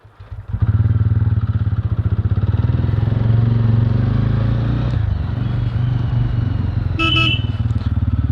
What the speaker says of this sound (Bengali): এখন শুধু গাড়িটা স্টার্ট দেবো, দিয়ে বেরিয়ে যাব